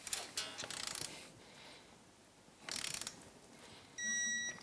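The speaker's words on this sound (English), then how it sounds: "And we're going to torque it to 29 foot-pounds." A torque wrench tightens a tie rod end nut on a Yamaha YXZ1000 side-by-side, giving short mechanical ratcheting bursts near the start and around the middle, then a brief steady tone at the end.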